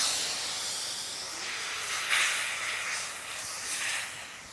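Water and turmeric hit a hot pan while cooking shukto, giving a steady, moderately loud hiss of steam that surges briefly in bursts.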